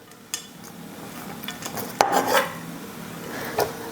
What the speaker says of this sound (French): je vais mettre le couvercle sur mon chaudron pour que ça chauffe plus vite